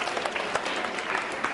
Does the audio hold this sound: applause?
yes